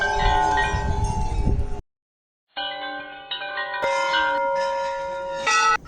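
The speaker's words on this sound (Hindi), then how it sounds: "यहाँ ढेर सारी घंटियाँ लगी हुई हैं जिसकी आवाज़ पूरे मंदिर में गूंज रही है" Several temple bells ring out in overlapping, sustained metallic tones at Chitai Golu Devta temple in Almora, with a brief silent gap before more clanging bells join in and ring on.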